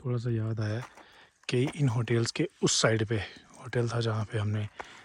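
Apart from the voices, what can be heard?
No distinct noise like a dog, phone or traffic.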